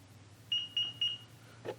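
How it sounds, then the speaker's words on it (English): Three short, high electronic beeps from a Cappec Bluetooth thermometer powering on, in a steady rhythm over a low hum, followed by a brief soft rustle. "So you hold it till you hear it beep."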